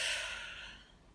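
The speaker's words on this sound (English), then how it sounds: "Breathing in" A single deep in-breath drawn during a guided relaxation exercise: a soft, airy rush that starts strongest and gradually fades, close and quiet.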